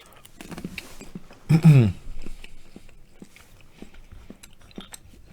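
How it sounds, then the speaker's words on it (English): A single almond is crunched and chewed close to the mic in a brief burst of crisp bites, standing out over quiet room noise with faint scattered clicks around it. "While I'm waiting, I'm going to crunch an almond."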